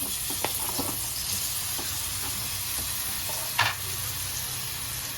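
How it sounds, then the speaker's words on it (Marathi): Banana pieces sautéing in hot ghee in a pot, a steady close sizzle and hiss running throughout with light stirring scrapes and a brief louder burst near the end. "केळं छान परतून घ्यायचं घीमध्ये"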